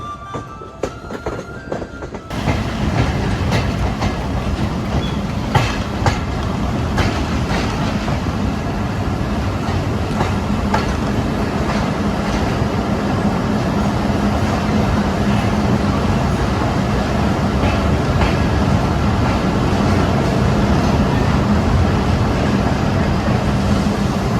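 A night train from Khulna nears Kushtia Court railway station with a loud, steady rumble of wheels on rails and faint clickety-clack. After a quieter opening couple of seconds, the roar fills the rest.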